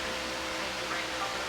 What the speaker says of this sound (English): Love that humming sound on medium.